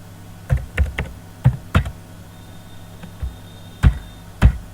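Computer keyboard typing while a ledger name is entered in Tally ERP9 accounting software: about eight separate key presses in irregular bursts, close and moderately loud, with no speech.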